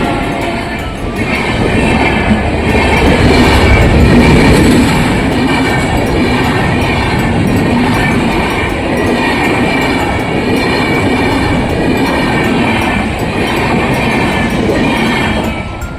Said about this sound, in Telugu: ట్రైన్ అయితే వస్తుంది.